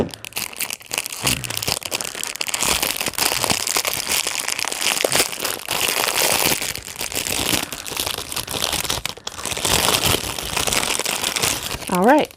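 Reusable plastic craft packaging being opened, with continuous crinkling and crackling of thin plastic close to the microphone, brief pauses in between, and a voice speaking at the very end.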